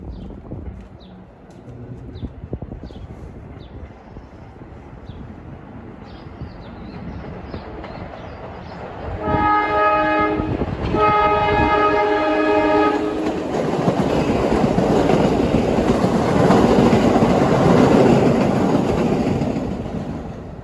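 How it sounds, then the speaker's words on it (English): A Staten Island Railway express train bound for Tottenville sounds a loud, sustained multi-tone horn in two long blasts, followed by the rising roar and rumble of the passing train with some clickety-clack. Birds chirp faintly beforehand. "Nice horn sound, reminiscent of the old Chicago North Shore and Milwaukee."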